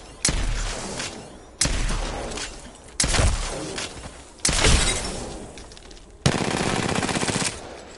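Gunfire in a PS4 shooter video game comes in five loud, sharp bursts, each a hard crack trailing into a rattling decay, spaced about every one and a half seconds, with the last a sustained rapid volley.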